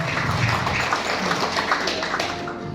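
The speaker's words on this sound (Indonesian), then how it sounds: "Tepuk tangan untuk beliau ya." Steady applause from an audience at a business presentation in Indonesia, dense clapping sustained throughout at moderate loudness, with no clear speech over it.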